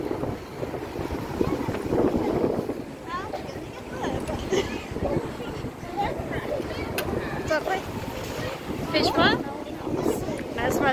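Gusty wind buffets the microphone outdoors on the Weston-super-Mare seafront, rumbling and roaring unevenly while people talk over it.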